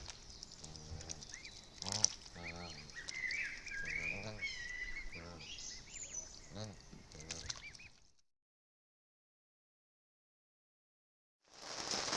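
Canada geese honk and cackle repeatedly at a distance for several seconds along a canal, overlapping calls with outdoor background noise, then silence before a brief final burst.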